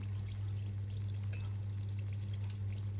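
Small sweet-filled curry puffs (karipap) fry steadily in medium-hot oil, a continuous close sizzle with fine bubbling crackle and no talking.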